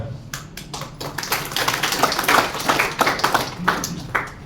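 Scattered hand clapping in a room, sharp claps arriving unevenly and thickening into a short burst of applause over a low steady background hum, with no talk.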